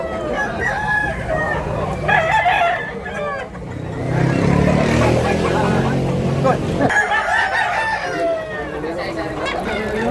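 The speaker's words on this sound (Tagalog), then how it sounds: "Grabe manok." Several crows from fighting cocks in Tabunok, Cebu ring out near the start and again toward the end, while a passing vehicle rumbles in the middle and people keep chatting nearby.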